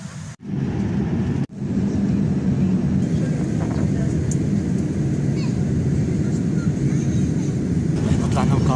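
Steady broad roar of a passenger airliner's engines heard from inside the cabin after boarding, loud and continuous with brief dropouts near the start and faint cabin sounds on top.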